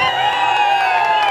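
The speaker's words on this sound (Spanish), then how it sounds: "una bullita bien fuerte para la quinceañera" Guests at a quinceañera celebration with a mariachi band send up a loud, sustained wave of cheering and whooping, a dense crowd roar holding steady throughout.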